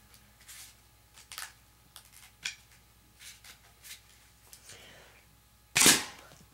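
A homemade paper sniper rifle firing at a target: a series of faint dry snaps and clicks spaced irregularly, followed by one much louder, sharp crack near the end.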